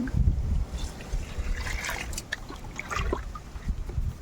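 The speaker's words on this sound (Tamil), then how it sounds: "இப்போ நம்ம தண்ணி வந்து கீழே போகாத அளவுக்கு எவ்வளோ தேவையோ அந்த அளவுக்கு மட்டும் நம்ம ஊற்றிக்கலாம்" Water is poured into a seven-leaf plant solution, giving a soft, continuous trickle and splash close by against low background rumble, with no voices.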